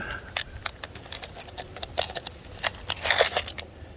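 A bucket of small metal parts and brackets from a Pinto project car being rummaged through: scattered light clinks and jangles, close and irregular, with no talking.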